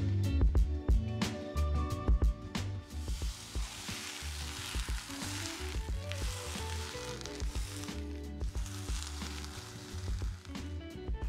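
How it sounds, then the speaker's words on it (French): Rice flour bread dough meeting a very hot cast-iron pot gives a loud, steady sizzle and crackle, with dense frying hiss and small bumps and scrapes from the dough being set in. "on va mettre notre pâte dans la cocotte très chaude"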